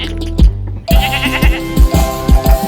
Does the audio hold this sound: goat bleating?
yes